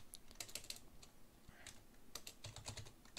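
Keys clicking on a computer keyboard as code is typed, quick bursts of close, light taps separated by short pauses, quiet and with no one talking.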